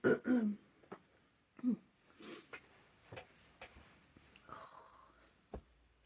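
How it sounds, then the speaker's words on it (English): A few rough throat-clearing noises close to the mic, separated by short pauses, with some quiet breathy sounds in between. "I'm just going to have to clear my throat a bit"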